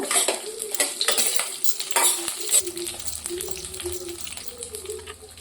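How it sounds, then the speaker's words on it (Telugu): Slit green chillies fry and sizzle in a pan while a utensil stirs them, steady crackling throughout with scraping strokes near the start, close and fairly loud. "ఇప్పుడు వీటిని ఫ్రై చేసుకున్నాము"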